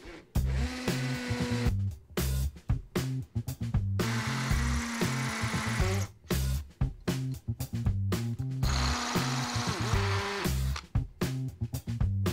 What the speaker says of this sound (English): Then take it down, drill the hole, put plug in, screw, do it over and over again for all of the other pieces